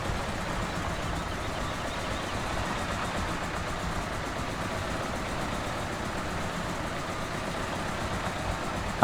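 A tractor engine in the Farming Simulator 17 video game runs at a steady idle, a continuous low rumble that holds an even level throughout with no talk over it.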